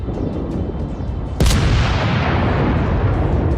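Naval guns fire aboard the cruiser Nassau in a warship video game: a single loud, sharp boom lands partway through, followed by a sustained rumbling roar under steady low background noise.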